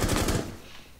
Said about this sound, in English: Was it you that shot me?